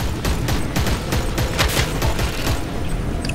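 Rapid, dense gunfire in the video game Shards of War crackles continuously, overlapping bursts of shots filling the whole stretch without pause.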